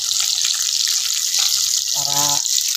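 Tilapia fries in a pan with a steady, close sizzling hiss throughout, and a brief voice sounds near the end.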